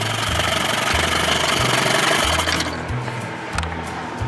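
A 2000 Johnson 25 hp outboard motor idles with a steady low chugging pulse and a hissing wash on top, close and fairly loud, easing slightly quieter toward the end, with no talk.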